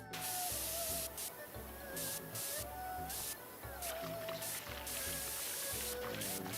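Pressure washer blasting grime in the PowerWash Simulator video game, a steady hissing spray that cuts in and out in bursts, with faint talk underneath.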